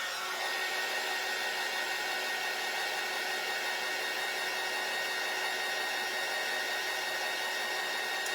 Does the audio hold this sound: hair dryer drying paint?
yes